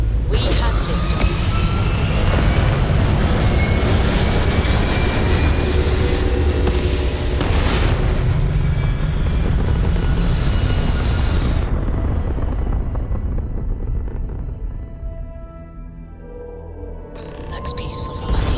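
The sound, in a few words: rocket liftoff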